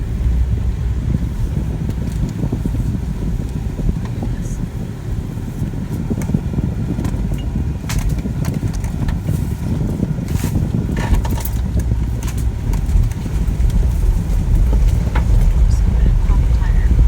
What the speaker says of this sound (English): Kind of crazy how a vehicle can drive over sticks and stuff that big pretty easily.